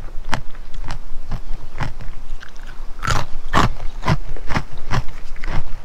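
Pork crackling is bitten and chewed up close, each bite giving a sharp, loud crunch, with about a dozen crunches in an uneven rhythm and louder bites near the end.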